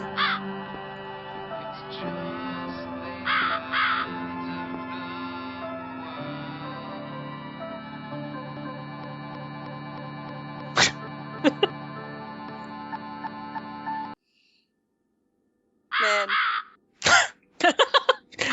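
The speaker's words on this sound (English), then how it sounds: "What's up, bird?" In the video game The Cat Lady, a crow caws in a few harsh bursts against a sustained droning musical backdrop, followed by more scattered loud caws after the music cuts out.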